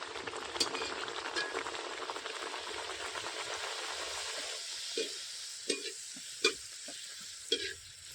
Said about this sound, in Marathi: श्रीखंड बनवलं त्याच्यावर ही पुरी तळून घेते